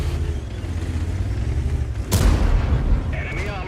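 A Super Pershing's tank cannon in World of Tanks firing premium gold ammunition: one heavy, booming shot cuts through a steady low engine rumble, followed by a fading ringing echo, with a faint voice underneath.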